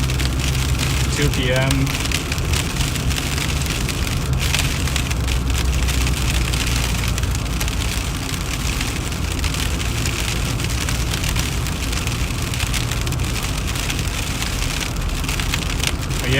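Freezing rain drums hard and continuously on a car's roof and windshield while driving through a Boxing Day snowstorm, a loud, even patter under the engine hum, with someone talking briefly near the start.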